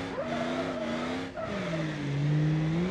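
A diesel engine in BeamNG.Drive, fitted with a stage 1 performance tune, revs hard and close, its pitch climbing, dipping briefly, then rising again in a strong sustained drone.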